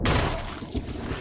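A single close, loud handgun shot fires at a zombie in the survival horror game Resident Evil, a sharp onset followed by a short booming decay.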